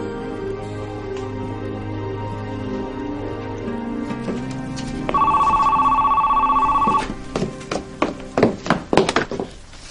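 A telephone rings in a TV soap scene, a loud electronic trill lasting a couple of seconds over background music, followed by clunky handling knocks.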